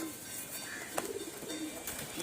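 Pigeons kept for breeding and sale coo softly in a loft, a few low murmuring calls rising over a steady background hiss, with no voices.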